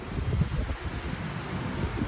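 Continuous wind rumble and gusty low buffeting against the microphone on a boat on the San Antonio River Walk, fairly steady throughout with no talking.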